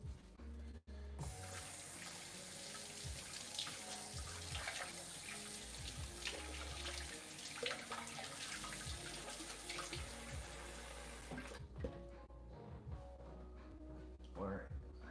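Tap water runs steadily into a sink to soak something at home, a constant close rushing stream that stops near the end, with a person talking softly over it.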